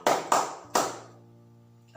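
Hand claps in a classroom ice-breaking clap game, three sharp close claps in quick succession followed by a fading ringing tail and a faint final tap.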